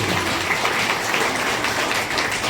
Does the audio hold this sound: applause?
yes